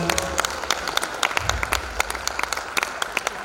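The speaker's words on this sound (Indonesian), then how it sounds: "terima kasih Pak Kakan dan Pak Chandra, kita berikan tepuk tangan." Audience applause at an Indonesian sales training role-play demonstration, a steady dense patter of many hands clapping at moderate level with sharper individual claps standing out throughout.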